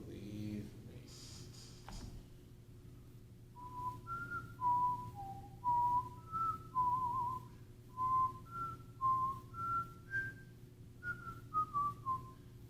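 A person whistles a slow, wandering tune of about a dozen clear sustained notes close to the microphone, after a brief bump and low hum at the start.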